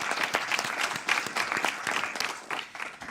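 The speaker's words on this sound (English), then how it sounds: "Round of applause, please." An audience at a university awards ceremony claps for a teaching award recipient, a dense, steady burst of applause filling the room.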